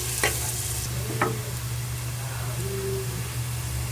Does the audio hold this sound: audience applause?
no